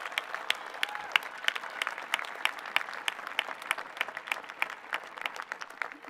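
Graduation audience at the Oak Park and River Forest 2023 commencement applauding, a moderately distant, thinning round of clapping with distinct individual claps standing out in an irregular patter.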